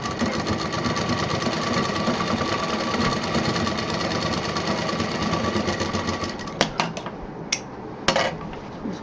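Sewing machine stitching the side wall of a large fabric shopping bag, running in a steady dense whir for several seconds, then stopping and giving way to a few sharp clicks and taps.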